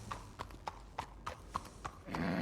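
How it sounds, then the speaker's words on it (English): Horse hooves clip-clopping in a roleplay video game, about eight evenly spaced, crisp hoofbeats at a walking pace, close and clear before a broader rush of noise at the end. "Look at you two riding in here on a horse."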